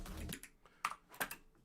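Clicking while playing Geometry Dash, a few sharp close clicks in an uneven rhythm, quiet and alone with no talk.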